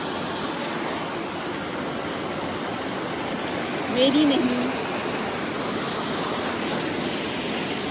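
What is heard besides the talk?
flowing water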